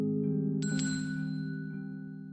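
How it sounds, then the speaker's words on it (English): A doorbell chimes inside a home, two bright ringing tones sounding at once over a steady low hum and fading slowly, with no one speaking. "the doorbell interrupts her"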